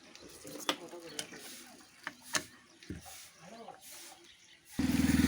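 Nuts are loosened from the MOSFETs of an e-rickshaw controller, giving scattered sharp metallic clicks and ratcheting ticks at close range, followed by a louder steady buzz at the end.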